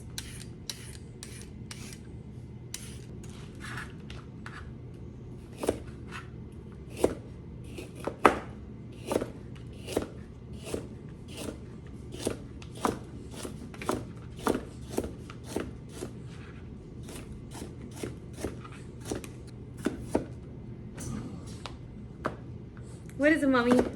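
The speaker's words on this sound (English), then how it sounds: "going to peel and cut up 3 carrots and about 5 baby golden potatoes" Carrots and baby golden potatoes being peeled close by: a run of short, dry scraping strokes in a loose, uneven rhythm, with small kitchen knocks and a brief voice near the end.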